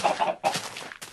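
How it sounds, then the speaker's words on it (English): Chickens cluck in the Minecraft video game, two or three short clucking bursts close by with no talk. "Silly chickens."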